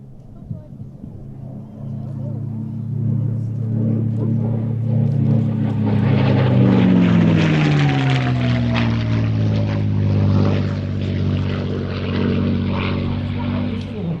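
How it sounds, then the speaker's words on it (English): A P-51D Mustang fighter plane flies past at an airshow, its piston engine droning loudly and steadily, the pitch sliding downward as it passes close by and then recedes. "P-51D Mustang."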